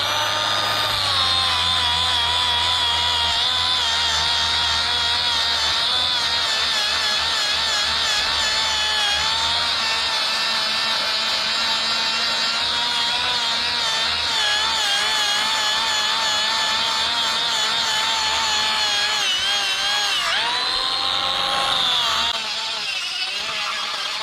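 A power tool fitted with a non-abrasive pad works over an LS engine block, a steady, loud high-pitched whir running continuously for about twenty seconds before winding down.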